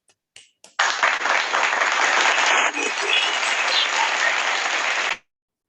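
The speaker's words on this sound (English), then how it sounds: "Can we have a huge round of applause for the dignitaries present today?" A conference audience at a leadership summit applauds its dignitaries: a few scattered claps, then a sudden burst of steady, full clapping that holds for about four seconds before cutting off sharply.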